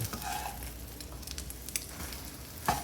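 A Sri Lankan style omelette sizzles in a frying pan after the heat is turned off, a steady, soft crackle with a few louder scrapes and a brief clatter as it is flipped.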